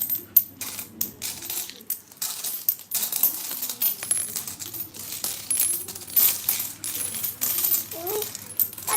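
Coins clatter and jingle continuously as a piggy bank is emptied, many small metallic clinks and pours at close range, with a few brief voices in the background.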